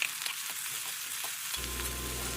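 Ginger-garlic paste fries in a pan with a soft, close sizzle and stirring, after which a low steady hum swells in beneath the frying.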